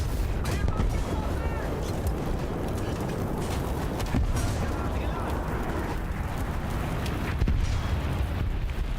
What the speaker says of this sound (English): Got a bomb behind me.